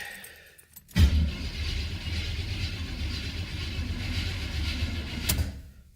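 Car with a manual choke carburetor cold starting: a sudden crank-and-catch followed by several seconds of rough, steady idle running close by, cutting off near the end.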